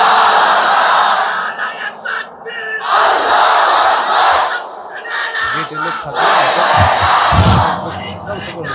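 A crowd at an Islamic sermon gathering shouts the takbir in loud unison bursts, with roaring group calls rising and falling between short pauses and a voice leading them.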